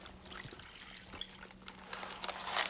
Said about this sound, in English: I'm going to add some warm water